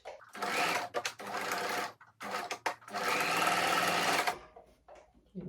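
Sewing machine stitching satin turban fabric in quick, loud bursts of whirring with short pauses between runs, close up.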